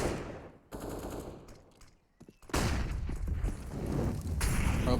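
Gunfire rattles in a professional CS:GO match on the Inferno map between mousesports and Astralis, with loud rapid automatic bursts, a brief near-silent lull with scattered shots, then sustained heavy firing to the end.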